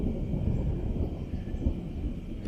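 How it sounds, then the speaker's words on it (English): Low, distant rumbling rolls steadily without a break, a deep muffled roar with no voices. "And you can hear the thunder."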